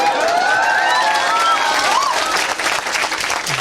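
A crowd at a speech gathering gives loud, dense applause to welcome a speaker, steady clapping with a few cheers rising over it.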